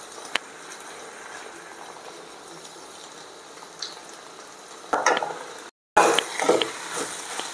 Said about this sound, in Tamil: தேங்காய் சேர்த்து நல்லா கொஞ்சம் கலரிக்கணும்.